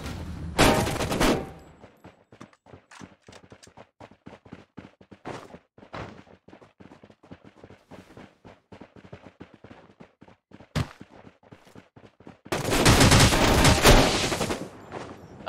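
Gunshots in the battle royale shooter Rules of Survival: a long run of distinct rapid shots with quick crisp cracks, framed by two louder, denser bursts at the start and end, no talk.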